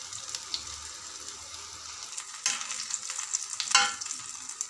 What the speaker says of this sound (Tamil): வாழைக்காய் ஃப்ரை பண்ணிக்கிட்டு இருக்கேன், எண்ணெயில் போட்டு நல்லா நல்லா ரோஸ்ட் ஆகும்